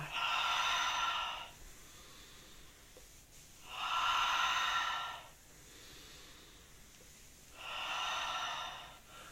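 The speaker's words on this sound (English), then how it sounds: "Breathing in, and out, in and out." Slow, deep breathing in and out during a relaxation exercise. Three long, airy breaths sound close and alone, spaced evenly with quiet pauses between them.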